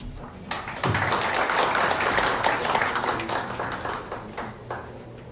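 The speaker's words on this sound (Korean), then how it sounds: "박수 좀 부탁드립니다" Audience applause at a Korean panel discussion on conservatism, steady dense clapping from a crowd that swells after the first second and holds loud before tapering slightly, with no talk over it.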